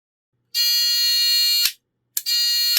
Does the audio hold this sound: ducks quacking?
no